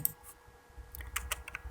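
Keyboard keys pressed for a Ctrl+T shortcut while working in Photoshop CC 2021, giving a quick run of close, light clicks and taps with no talk over them.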